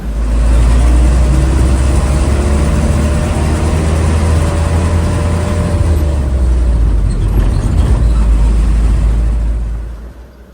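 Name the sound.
single-axle bus engine while riding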